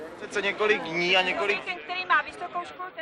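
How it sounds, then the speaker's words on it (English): Anxious crowds debate in the streets of 1960s Czechoslovakia, a dense babble of many overlapping voices talking at once, steady and fairly loud throughout. "Everywhere, crowds gathered in anxious debate."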